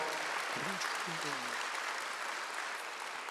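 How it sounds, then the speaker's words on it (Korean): A church congregation clapping during a Sunday worship service, a steady dense wash of applause with a voice speaking briefly over it near the start. "박수 쳐요"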